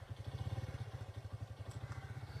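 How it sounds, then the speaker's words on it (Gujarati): A motorcycle engine that has just started runs at a fast, even idle, its low thumping pulses close by and faint, with no talk over it. "અરે બાઇક ચાલુ થઈ ગઈ."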